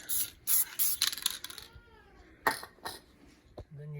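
Spray paint can fogging chassis fasteners flat black, several short hissing bursts close by, separated by quiet gaps with faint handling noises, ending with a low hum.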